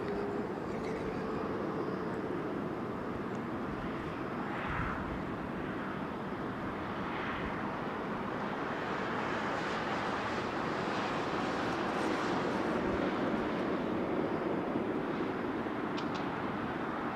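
At London Heathrow an airliner touches down in a crosswind, producing a sustained broadband jet roar with wind buffeting, steady and moderately distant throughout.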